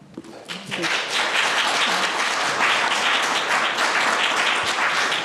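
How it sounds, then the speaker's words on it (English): Audience applause at a Troy, Michigan school district board of education meeting, a dense, steady wash of clapping that swells in quickly after a brief quieter start and holds moderately loud to the end. "Please hold your applause."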